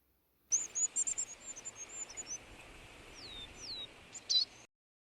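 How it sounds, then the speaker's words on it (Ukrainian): A tit (titmouse) sings close and clear, a quick run of high chirps and thin whistled notes followed by a few slurred calls and a final burst, with no other sound around it. "Це синичка."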